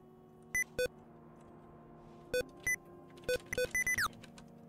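A series of sharp electronic beeps in Kingdom Two Crowns: two early bleeps, a pair after a pause, then a rapid cluster ending in a falling chirp, all crisp and close with no speech.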